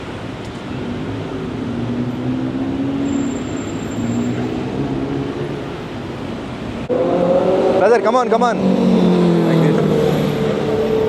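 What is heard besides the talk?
Bangkok city bus number 74 pulling up and stopping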